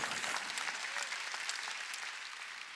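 A congregation at a sermon breaks into a full, continuous round of applause, even and sustained and slowly tapering off toward the end, with no talk over it.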